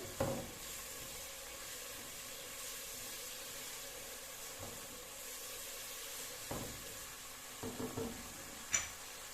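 Carrots and onions fry in a pan, a soft continuous sizzle broken by occasional stirring clatters and scrapes, quiet and close with no talk.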